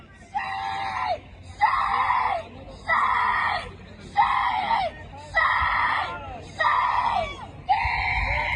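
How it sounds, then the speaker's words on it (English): A girl screams repeatedly on a college campus, seven long loud shrill cries of similar length with brief gaps between them, close and dominant. "A girl screaming."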